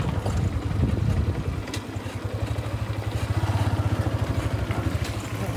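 A motorbike rolls slowly at about 20 km/h over a rough, damaged road, its engine putting out a steady rhythmic chug, close up, with occasional clatter and jolts.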